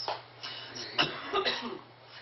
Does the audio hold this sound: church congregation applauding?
no